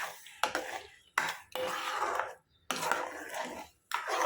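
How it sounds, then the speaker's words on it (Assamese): About 200 grams of sugar is stirred in a pan for homemade Assamese tomato ketchup, and a spoon scrapes and clinks against the metal in several close bursts separated by short silences. "এইখিনি অলপ সময় এইদৰে লৰাই থাকিব লাগিব।"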